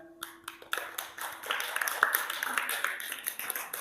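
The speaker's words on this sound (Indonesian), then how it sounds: "Kita tepuk tangan." Children clap their hands together at a Ramadan Islamic school session, a busy run of claps starting after a brief pause and continuing steadily at moderate loudness, mixed with some voices.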